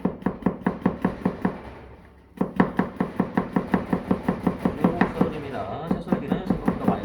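A kitchen knife julienne-cutting vegetables on a cutting board for Korean cooking knife practice, a fast, steady run of close, crisp chops broken by one short pause before the even rhythm picks up again.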